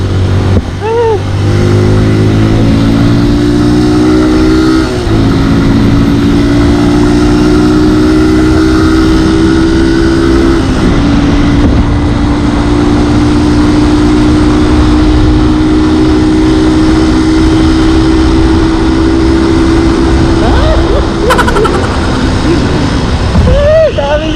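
A 2021 Honda TMX 125 Alpha motorcycle engine revs hard at top speed, a loud close drone that climbs in pitch, holds, dips and rises again through the shifts, continuous for over twenty seconds.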